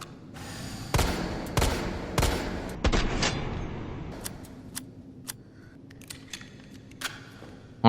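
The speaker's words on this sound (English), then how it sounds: "Alrighty, so that's reviewing the G19 handgun for you guys." G19 handgun shots in the video game Resident Evil 3 Remake crack out loud and close, several evenly spaced single shots at first, followed by quieter sparse clicks and ticks of handling between them.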